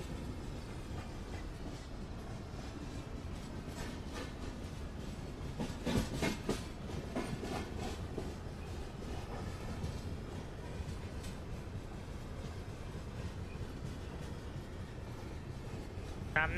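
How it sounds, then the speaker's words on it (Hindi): A goods train rolls past in the Microsoft Train Simulator game on an Indian route, its steady rumble and wagon clatter running the whole time at a constant level, with a brief swell of clicking near the middle. "सामने से गुड्स ट्रेन जाते हुए गाइस"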